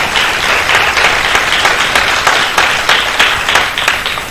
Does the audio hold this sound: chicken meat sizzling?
no